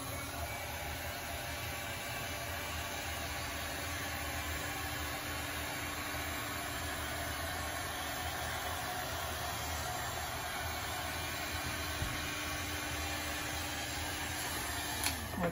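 A heat blower warms a thin layer of VG35 wax on a classic cross-country ski base, giving a steady, even motor hum and rushing airflow that continues unchanged throughout, close by with no talking.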